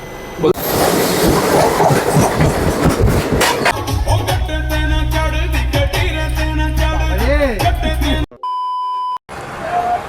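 A passenger train, a special AC train from Yog Nagari Rishikesh to Sealdah, rumbles steadily along the rails with rhythmic clacking and a few beeps, close and loud, before a brief pause and a tone.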